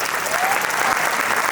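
Dense, steady applause from a theatre audience at the close of a Natyaranjan 2026 stage performance, a continuous wash of many hands clapping at even loudness through the moment with no pauses.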